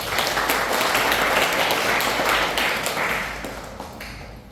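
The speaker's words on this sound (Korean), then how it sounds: "박수로 환영해 주십시오." Loud, sustained applause from an audience at a Lions Club forum in a large conference hall, steady clapping that swells and then gradually tapers off over several seconds.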